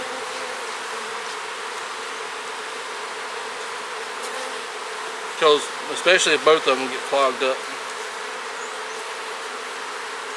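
Bees hum in a steady, moderate drone throughout hive work, with someone speaking briefly over the buzzing midway through.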